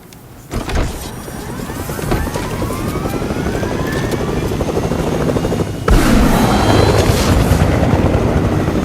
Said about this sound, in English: Oh, we could take the helicopter.